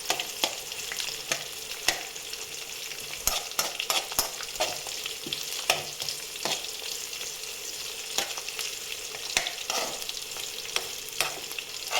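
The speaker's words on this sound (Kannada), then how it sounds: "ನೋಡಿ, ಆನಿಯನ್ ಎಲ್ಲ ಯಾವ ಥರ ಫ್ರೈ ಆಗ್ತಾಯಿದೆ, ಗೋಲ್ಡ್ ಕಲರ್ ಬರಲಿಕ್ಕೆ ಸ್ಟಾರ್ಟ್ ಆಯಿತು" Onions fry in a pan for sambar, a continuous close sizzle broken by frequent sharp scrapes and taps of a spatula as they are stirred, with no talking over it.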